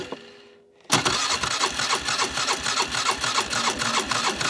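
A Polaris Sportsman 400 ATV, muddy and refusing to drive, cranks on choke after a quiet pause, then catches and runs loud and close with a fast, rough, pulsing chatter.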